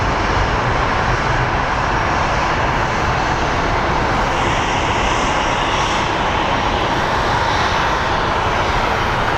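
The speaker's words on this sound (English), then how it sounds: "there's our WestJet 737 MAX 8" A WestJet Boeing 737 MAX 8 jet at Phoenix Sky Harbor airport produces a loud, steady engine roar that holds for the whole stretch, broad and unbroken with no talking over it.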